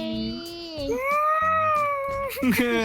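A small cat mewing in the video game Minecraft, several drawn-out, wavering cries in quick succession, loud and close, with players chatting faintly alongside.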